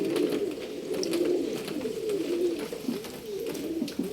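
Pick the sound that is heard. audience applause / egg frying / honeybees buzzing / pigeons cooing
pigeons cooing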